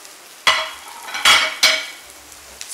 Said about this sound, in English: So you saute as well.